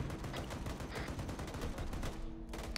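Rapid, sustained .50 cal gunfire in a video game, a dense continuous stream of loud shots hammering without a break, with a faint tonal hum toward the end.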